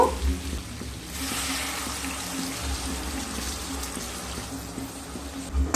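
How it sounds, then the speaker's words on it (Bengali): Roughly 200 ml of water poured into a pan of fried yam and potatoes for a vegetarian Bengali curry, a steady splashing pour with bubbling, bracketed by brief clunks. "আমি প্রায় 200 ml মতো জল দিয়ে দিলাম।"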